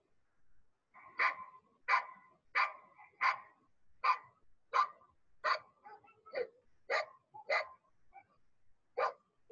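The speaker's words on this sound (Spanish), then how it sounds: "Es el sonido de los perritos." Dogs barking in a steady series of about a dozen loud, close barks spaced roughly half a second to a second apart, with no talking.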